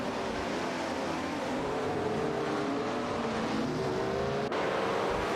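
Race car engines in an AI racing video game drone continuously on the track, a dense, steady roar of revving motors with a slowly rising pitch, loud and close, with no talk.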